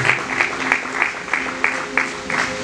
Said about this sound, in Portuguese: Os aplausos, por favor.